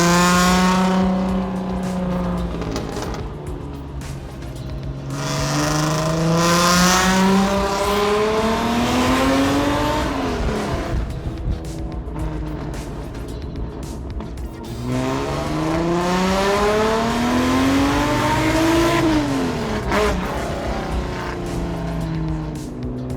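A Toyota Supra hammers through hot laps on a street, its engine climbing in two long loud rising sweeps before dropping off, with tire noise and passing roar between pulls.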